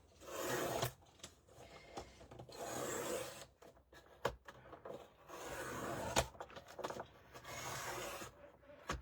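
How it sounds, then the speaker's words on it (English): Dull blade on a paper trimmer scoring grey board, giving repeated rasping scrapes in long strokes broken by sharp clicks and knocks, close and fairly loud with no talk. "score my grey board 5 3/4 with my dull blade on my trimmer first"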